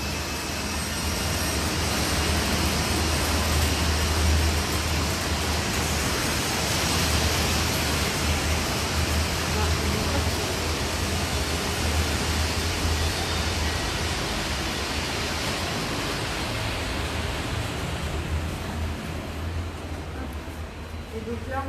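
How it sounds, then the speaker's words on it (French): Many machines run together in a building workshop, making a loud, continuous broadband roar with a low hum underneath that stays steady throughout. "on était dans la salle avec toutes les machines"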